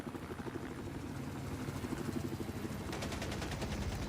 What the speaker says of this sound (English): Here comes a helicopter fight.